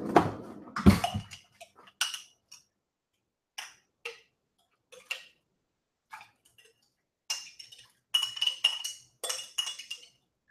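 A spoon clinks against a glass jar in a home kitchen: a handful of light, bright taps in short irregular bursts, close by, after a brief louder rustle at the start.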